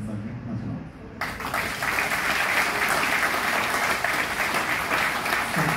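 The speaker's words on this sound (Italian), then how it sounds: "vorrei davvero ringraziarvi e farvi un applauso" An audience at a book presentation breaks into applause after a short spoken lead-in, then keeps up sustained, dense clapping from many hands in a hall.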